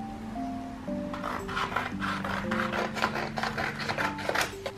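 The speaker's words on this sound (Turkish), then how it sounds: "Kağıdın üstüne koyuyorum ve dikkatlice çiziyorum." A pencil scratches and rubs across paper while tracing carefully around a template, in a series of quick, close strokes over faint background music.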